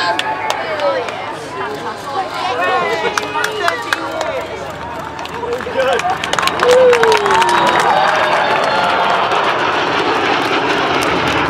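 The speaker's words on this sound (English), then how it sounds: "the pilot flying this Vulcan today, out to our left, is Martin Withers" An Avro Vulcan bomber roars past at an air show at RAF Cosford, building from a distant rumble to a loud, harsh scream, while a crowd talks and murmurs throughout.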